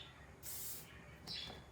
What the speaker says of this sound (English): get some spray in there to help you work